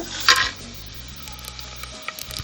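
Whole spices hit hot oil for a veg pulao, giving a sharp crackling burst at first that settles into a steady low sizzle with a few pops, close up and without speech.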